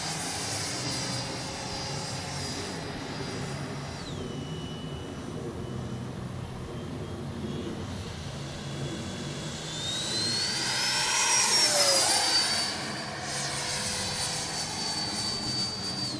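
Freewing F-22 RC jet flying past, a steady whining turbine roar that swells and sweeps in pitch as it passes close by around the middle, then settles back to a constant drone.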